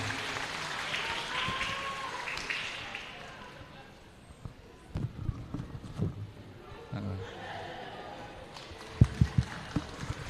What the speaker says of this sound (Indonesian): tepuk tangan leres Bapak Ibu semuanya